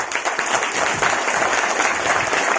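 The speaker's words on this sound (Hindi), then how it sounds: "आप सब की तालियां चाहूँगा" Audience at a network marketing talk breaking into loud, sustained applause, a dense crowd of clapping hands filling the room without a break.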